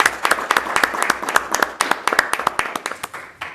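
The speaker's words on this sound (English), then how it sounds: "golf applause." A small group at a municipal utility district board meeting gives a brief round of light, scattered applause, with separate claps that thin out and fade after a few seconds.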